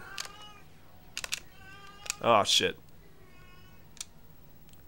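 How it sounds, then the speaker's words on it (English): A house cat lets out a loud, drawn-out double meow close by, amid sparse clicking and a few brief spoken words. "You really can hear him, can't you? Yeah. He's a chatty cat."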